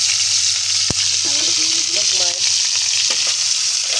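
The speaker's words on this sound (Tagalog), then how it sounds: "Magprito ka aning Kuya Mas" Kuyamas, freshwater snails, fry in a pan, a dense continuous close sizzle with a sharp utensil tap and brief scraping stirs, while a faint voice murmurs underneath.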